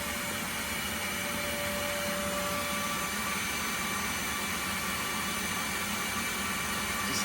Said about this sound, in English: We have 2 vacs going.